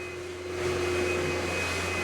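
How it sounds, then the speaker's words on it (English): Video-game vacuum cleaner running during a boxing gym renovation, a steady droning whir with a constant tonal hum that swells slightly after a moment and holds, with no voices. "Not sure if it's ASMR because of vacuum noise."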